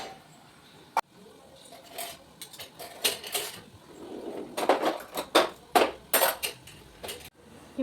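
Kitchen dishes, plates and spoons being handled, a series of close clatters, clinks and knocks in uneven bursts with quiet gaps between.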